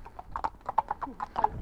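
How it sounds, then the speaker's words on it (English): Two horses walk past on a road, their hooves clip-clopping in an irregular, fairly close rhythm of distinct knocks, with a short snort or whinny among them. "Two horses."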